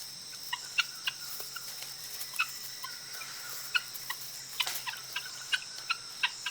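A flock of guinea fowl gives repeated sharp clucking calls over a quiet outdoor background, scattered and irregular, some near and some farther off.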